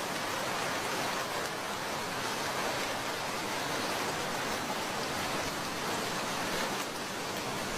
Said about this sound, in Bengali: আমরা দুজনে মিলে বারান্দায় বসে বৃষ্টির গান শুনি